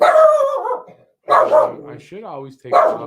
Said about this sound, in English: That's my dog, because she heard another dog bark, and she likes to bark back